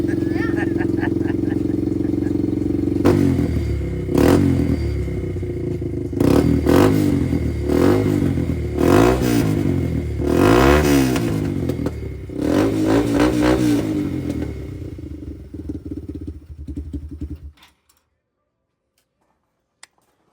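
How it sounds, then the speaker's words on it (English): A Yamaha motorcycle engine idling then revved in several sharp bursts, loud and close, before cutting off into silence near the end. "Want to give it a rev? Give it a rev, just a quick one."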